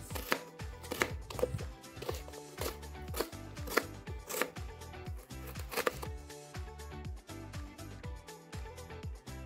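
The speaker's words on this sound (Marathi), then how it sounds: "ती आपण सर्व कोथिंबीर अशी बारीक चिरून घेणार आहोत" Fresh coriander leaves being finely chopped with a knife on a board for kothimbir vadi, a quick, steady run of sharp close knife strikes that keeps going throughout, with no talking.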